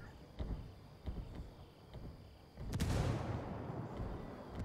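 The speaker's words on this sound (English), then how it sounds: "Mortars come down" Mortar strikes landing in the Ghost Recon Ghost War online video game, several muffled distant thumps followed by one louder, closer blast with a rumbling tail.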